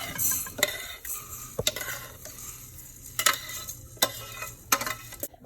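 Vermicelli noodles sautéing in butter in a pot, with repeated clinks and scrapes of a utensil against the metal over a low sizzle, several distinct sharp knocks spread across the stretch.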